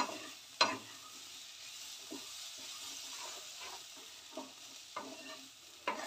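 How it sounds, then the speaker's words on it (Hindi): Raw papaya sabzi fries in a pan over a steaming flame, giving a faint, steady sizzle with a few sharp spatula scrapes scattered through it. "और इसको अच्छी तरह से फ्राई कर लेंगे।"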